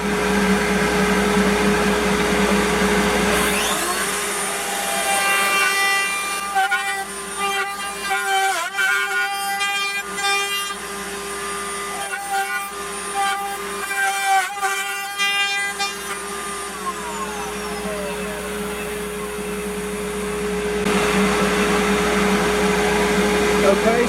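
A dust collector drones loudly and steadily in a woodworking shop, with a second motor whining and wavering over it through the middle stretch.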